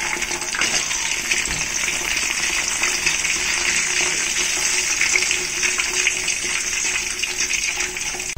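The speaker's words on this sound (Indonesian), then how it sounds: "Setelah itu kita goreng sedikit bumbunya tadi ya." Seasoning paste for tofu dish frying in hot oil, a steady bright sizzle that holds at an even, fairly loud level throughout with no talk over it.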